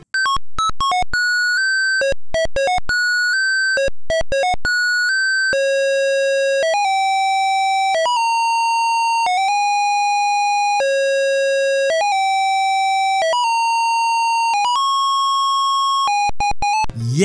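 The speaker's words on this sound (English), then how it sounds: "Because the game's music and sound effects sound like this." Music and sound effects from a cracked Metal Gear Solid video game play as harsh, buzzy square-wave beeps in a choppy melody, loud and alone without voices.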